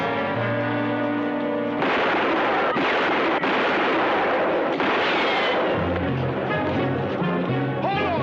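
Loud, close gunshots ring out in a western drama, with booming blasts and ringing echoes, several shots over a few seconds, followed by a brief voice and music in the background.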